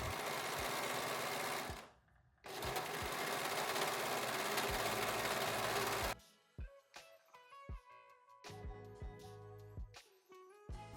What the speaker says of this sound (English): you can serge or zigzag that to secure the raw edges